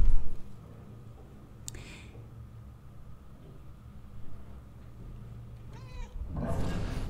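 Cat meowing in the video game Murdered: Soul Suspect, one short meow near the start and another near the end, heard alone over a low, steady background hum.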